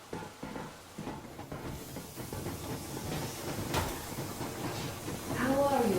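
A steam train rolls along in the video game Metro Exodus, giving a steady hissing, rumbling chug with faint rhythmic clatter under talk, swelling louder near the end with a whistle-like tone.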